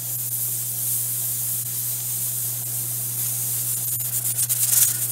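Pressure canner full of potatoes on the stove giving off a steady, close hiss as pressure builds, with a constant low hum beneath and a brief flutter near the end.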